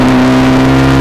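A Suzuki GS motorcycle fitted with a Racefit slashcut exhaust revs in one short, loud, steady burst with a low droning engine note, with no voices.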